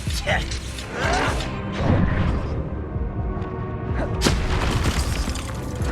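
An explosion spell goes off in Hogwarts Legacy amid a dense, continuous wash of game combat noise, with booming impacts, crashes and a sharp burst near the end, while voices talk throughout.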